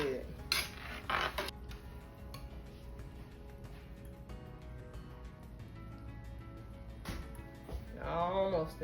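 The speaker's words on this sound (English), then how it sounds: "Put that top on there so that stays hot till we get ready to plate it" A lid goes onto a cooking pot in a kitchen during a spaghetti meal, with a few metallic clinks and clanks, some sharp and close, over quiet background noise.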